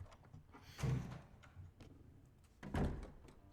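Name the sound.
door opening in video game Resident Evil Remake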